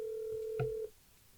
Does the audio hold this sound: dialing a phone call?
yes